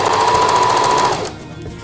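A sewing machine stitches stretchy lingerie fabric with elastic for plain briefs: a loud, close, rapid mechanical rattle with a steady whine that runs continuously, then eases off at the end.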